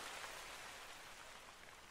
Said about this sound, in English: You gotta love the rain.